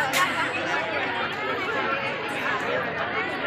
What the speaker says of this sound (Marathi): भरपूर प्रचंड गर्दी आहे.